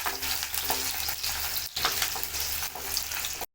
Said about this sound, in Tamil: 2 வந்து வரமிளகா, 3 பச்சை மிளகா, ஒரு கை அளவுக்கு சாம்பார் வெங்காயம், இது எல்லாம் சேர்த்து நல்லா வதக்கிக்கலாம்